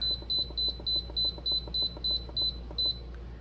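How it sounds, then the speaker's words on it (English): An electronic pressure cooker gives ten even electronic beeps at a steady, quick pace, clear and close against a quiet room hum. "It will beep at me."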